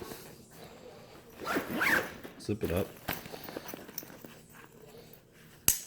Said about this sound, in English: I can close it, zip it up